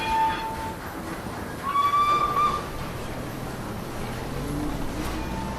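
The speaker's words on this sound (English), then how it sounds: "A temporary railway is built to bring in all the building materials" A train on a temporary railway hauls building materials for dam construction, rumbling steadily with a couple of whistle toots near the start, moderately loud and fairly close.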